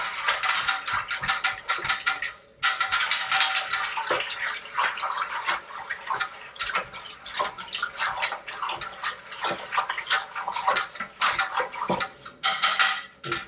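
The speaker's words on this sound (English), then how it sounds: "I'm going to give this a good stir." A sanitized paddle stirs hard seltzer in a plastic fermenter bucket, giving vigorous rhythmic sloshing and scraping with rapid clattery bursts, close and steady for over ten seconds, briefly pausing near the start.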